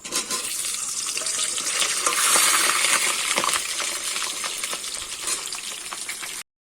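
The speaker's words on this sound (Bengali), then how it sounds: "এখানে আগে আলুগুলো ধুয়ে রাখা আলুগুলো ভেজে নেব" Washed potatoes fry in hot oil for a chicken kosha, giving a strong, crackling sizzle with scattered pops and spatter that stays steady and close throughout.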